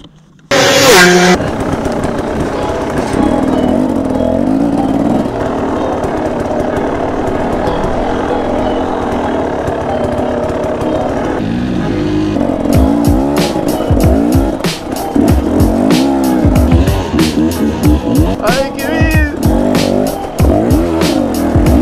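A car's wheels spin in a deep puddle, the engine revving hard and tires squealing in long loud bursts, with splashing and roaring continuing throughout and voices talking over it.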